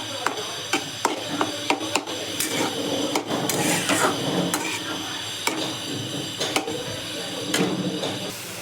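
A spoon stirs cooked vegetables in a pan in a home kitchen, making a steady series of light metallic taps and scrapes at an uneven rhythm, close and clear.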